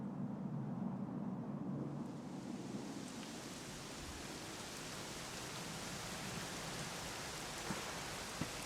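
Steady rain in Dragon Quest XI S pours down, a dense even hiss that swells after a couple of seconds and continues without pause, with a faint low rumble.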